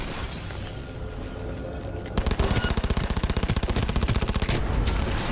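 Rapid submachine gun fire in Cyberpunk 2077, a sudden loud burst of fast, evenly spaced shots starting midway and rattling on steadily to the end after a quieter ambient stretch.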